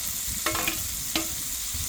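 Minced chicken and chopped carrot fry in hot spiced oil with a steady broadband sizzle, broken by two brief scraping stirs close by; nobody talks.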